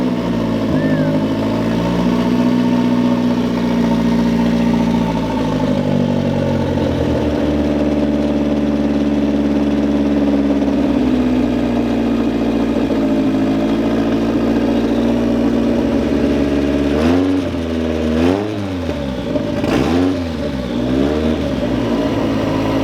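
A newly built drift car's engine idles steadily and smoothly up close, a continuous low rumble that rises briefly in a few short revs near the end.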